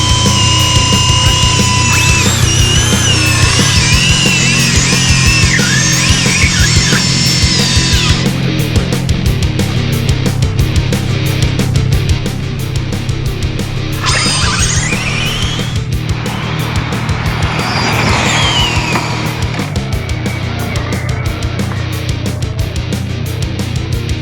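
No-prep RC drag cars racing down a track at a championship event, with loud high-pitched whining motors rising and falling in pitch over continuous crowd and track noise.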